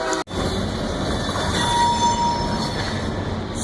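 A train rolls past near Harpers Ferry, loud and close, with a steady broadband rumble and rail noise that holds for the whole stretch. Faint wheel squeal rides on top after a brief dropout at the start.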